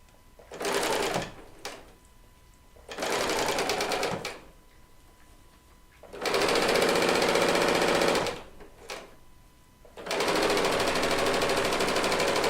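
A serger sewing machine stitches a quilt top in four steady runs, each a few seconds long, with a dense mechanical whir and brief quiet pauses between the runs.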